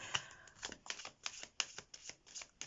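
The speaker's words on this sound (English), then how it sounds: "let's get this deck shuffled and these energies going" Tarot card deck being shuffled by hand, a steady series of crisp riffling and slapping bursts close to the microphone, repeating roughly every quarter second with no talking.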